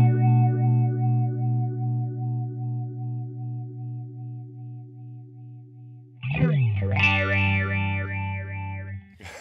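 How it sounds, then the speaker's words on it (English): A sustained electronic tone warbles through a swirling phaser sweep from a Warm Audio Mutation Phasor II, then jumps to a brighter, more intense swooshing texture with heavy feedback. "Swirly sweep phasing."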